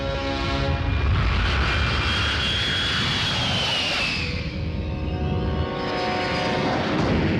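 A passenger airliner lands at Tirupati with a loud, sustained engine roar whose whine glides downward, then dips and swells again, and no voices are heard.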